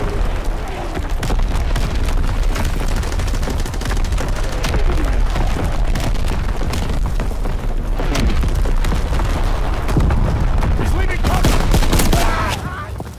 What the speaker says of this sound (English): Sending motor rounds. Zone and sweep. Firing primary battery.